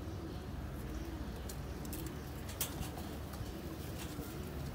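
Sialkoti rooftop pigeons coo with soft, low, repeated calls, faint under a steady noisy background, with occasional sharper bird sounds.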